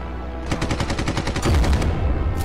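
Rapid aircraft machine gun fire from the video game Red Wings: Aces of the Sky rattles in one continuous close burst, with a denser, heavier stretch of shots near the end.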